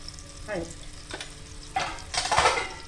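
Cumin, asafoetida and turmeric tempered in hot oil for a vegetable pulao, with stirring scrapes and soft sizzling that build to a louder burst of frying near the end, close by, with no one talking.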